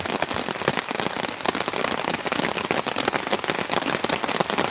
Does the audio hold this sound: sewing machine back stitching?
no